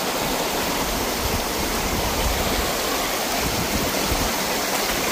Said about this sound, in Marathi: खूप म्हणजे फास्ट पाणी चाललंय सध्या.